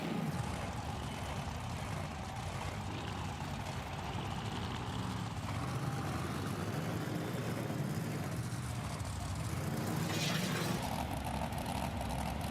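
Monster trucks race around a stadium track in a round of a monster truck stadium tour in Salt Lake City, filling the clip with a loud, continuous, distant engine roar and arena rumble, with no clear breaks.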